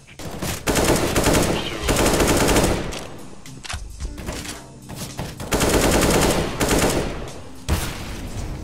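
Rapid machine-gun fire from a first-person shooter game, long sustained bursts broken by brief pauses, loud and close throughout with a little voice chatter in between.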